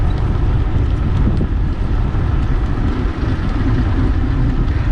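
Strong wind of 10 to 15 knots roars over the microphone while riding a bike along US1 in the Lower Florida Keys, a dense, continuous low buffeting rumble that stays loud without a break.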